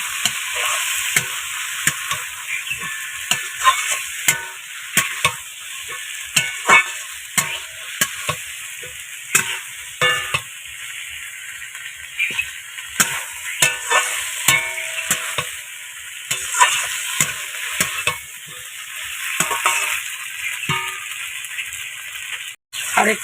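Fried potatoes stir-fry in a kadai with a constant loud sizzle, broken by frequent rapid spatula scrapes and rattles throughout.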